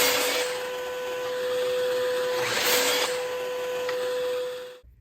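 A saw cuts small wood pieces for the legs and trim of a mini planter, a steady whining buzz running close and loud for about five seconds before stopping abruptly.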